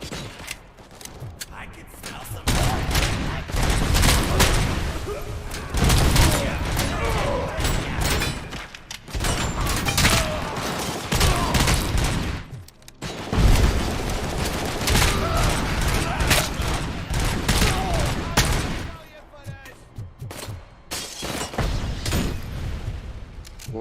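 Rapid bursts of gunfire rattle repeatedly and loudly, with short pauses between volleys and occasional booms, from combat in the shooter game RoboCop: Rogue City.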